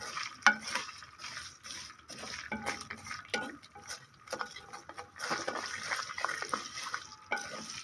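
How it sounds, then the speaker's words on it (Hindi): Vermicelli fried on low heat in a pan, with soft scraping and stirring strokes, light sizzle and occasional utensil taps, fairly quiet and irregular. "सेवइयां डाल के आपने इसे अच्छे से फ्राई करना है।"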